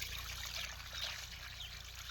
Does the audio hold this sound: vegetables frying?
no